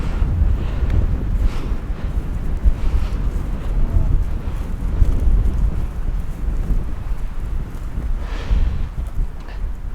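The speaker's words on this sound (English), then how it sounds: "you can see how windy it is" Strong wind on a mountain ridge at Brian Head, a loud, continuous roaring buffet across the microphone with low rumbling gusts that swell and ease throughout.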